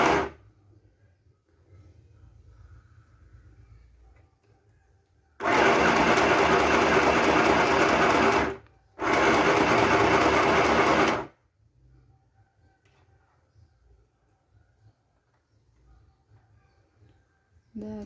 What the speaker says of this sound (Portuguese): Vai costurando.